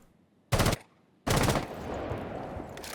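Gunfire in a video game match replay: two short, loud bursts of rapid shots separated by a brief silence, the second trailing into a lingering ambient rumble.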